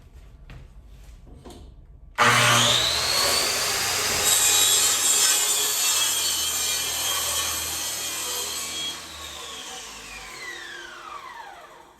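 A panel saw cuts through a wood panel in a workshop: the motor spins up sharply into a loud, steady whine with rasping blade noise for several seconds, then winds down slowly. No one speaks.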